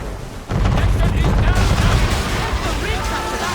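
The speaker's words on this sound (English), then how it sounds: "Man o' war's firing!" A man-o'-war warship's cannons fire in a naval battle in Assassin's Creed III, a sudden loud booming barrage that breaks in and rolls on as a sustained roar, with shouted voices mixed in.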